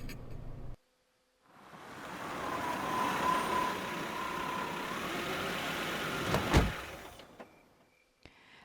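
A car engine hums steadily at idle as the vehicle pulls in and settles in a video game scene, a low continuous drone with a brief louder clunk near the end before fading.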